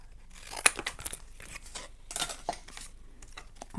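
Short bursts of card being torn and crinkled, a few sharp rips separated by brief pauses, close up.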